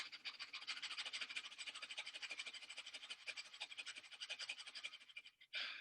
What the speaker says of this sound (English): Fire breath.